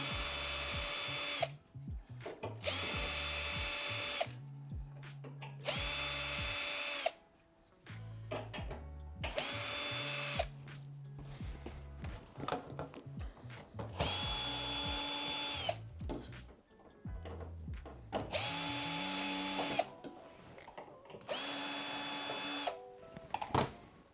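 Power drill backing screws out of the side panel of a Fisher Paykel tumble condenser dryer, about five screws per end; repeated loud whirring bursts of a few seconds each, separated by short pauses, close up with no talk.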